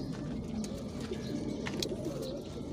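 Pigeons at a pigeon club coo in soft, throaty bursts, steady and fairly close, with faint higher chirps scattered above the low murmuring.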